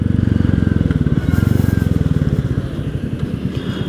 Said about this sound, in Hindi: अब इस गाड़ी को एक बार यू टर्न लेते हैं।